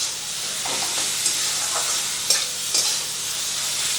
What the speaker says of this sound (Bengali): তো সব কিছু দিয়ে খোসাটাকে খুব ভালো করে ভেজে নেব।